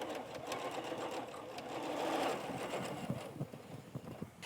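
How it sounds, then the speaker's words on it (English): Sewing machine stitching rows of a tractor-pattern quilt, a steady continuous mechanical whir that holds for several seconds and then breaks into short pulsing bursts near the end, close and moderately loud. "So now I'm going to sew this next section."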